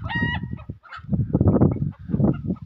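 A hen hiding to lay eggs inside a tin shelter clucks and cackles in several loud, close bursts with brief pauses, no one speaking over it.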